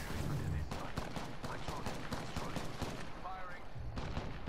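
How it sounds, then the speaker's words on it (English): Charge rifle gunfire in a video game battle, a run of sharp close shots repeating over several seconds amid other game sounds, with a voice speaking over the action. "Charge rifle, it looks like."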